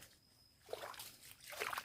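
Water in a forest stream splashes and sloshes in two short bursts, gurgling close by at a low level with quieter gaps between.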